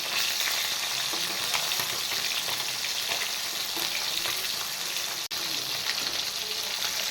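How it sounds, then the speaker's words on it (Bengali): Pabda and parshe fish fry lightly in hot oil, a loud, continuous close-up sizzle that holds steady for several seconds, broken only by one brief dropout. "তেল গরম হয়ে গেছে এবার আমি মাছগুলো ছেড়ে দেব মাছ আমি বেশি ফ্রাই করব না হালকা ফ্রাই করে নামিয়ে দেবো"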